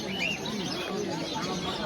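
A crowded bird fair with many caged birds chirping and cooing together, steady and close, mixed with background voices of the market.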